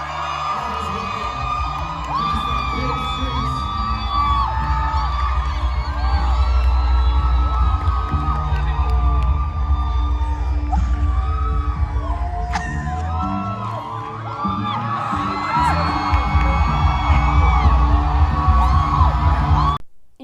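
Congregation at a worship service shouting and cheering together, a loud sustained crowd roar with whoops over a low throbbing bass beat, continuous throughout and dropping off abruptly at the end.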